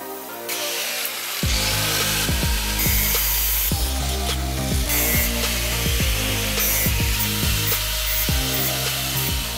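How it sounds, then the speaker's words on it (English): An angle grinder cuts small metal tabs meant to hold together the two shells of a bench power supply casing, a loud steady grinding whine with repeated short bursts as the blade bites in. "you're going to want to do is cut four of these metallic tabs which will hold the two shells together"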